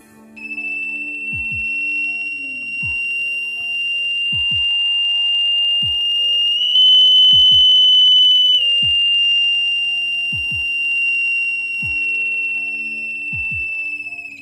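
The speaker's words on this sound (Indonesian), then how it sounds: "Kalian bisa membuat alarm paling sederhana. Bila terdapat panas, maka akan bunyi." Simple heat alarm built from an NTC thermistor sounding a steady, loud, high-pitched electronic tone for the whole stretch, with low clicks and thumps from handling underneath.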